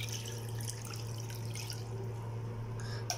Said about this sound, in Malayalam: വെള്ളം ചേർത്ത് കൊടുക്കാം.